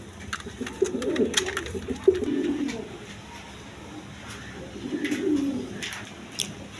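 Pigeons on a farm coo in soft, throaty rolling bursts that come in two or three separate phrases, close by, over a quiet background with faint scattered chirps.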